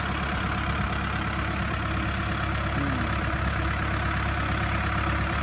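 A farm tractor engine idles with a steady, loud, low droning rumble that holds without a break from start to end, close by and alone, with no voices.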